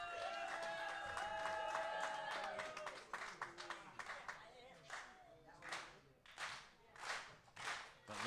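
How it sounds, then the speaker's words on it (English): A crowd at an independent pro wrestling show in Paulsboro claps in a rhythmic, swelling chant, the beats growing louder and more regular after a muffled stretch with a voice over the noise. "But listen to this crowd."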